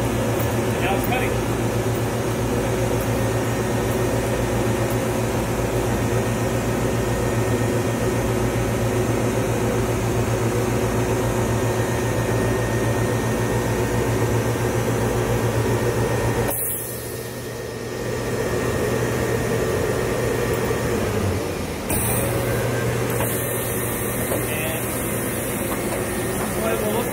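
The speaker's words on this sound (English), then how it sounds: "We're going to use our digital die cutter to show you how we score and die cut to make package." A digital die cutter in an ink shop scores and cuts a packaging sheet, giving a steady, loud mechanical hum and drone with a brief drop partway through before the machine noise resumes.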